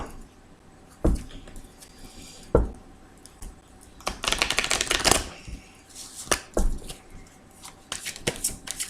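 Tarot cards being shuffled by hand at a reading table, heard as bursts of crisp riffling and flicking in short clusters, with a few isolated snaps early and denser shuffling runs later, close and moderately loud.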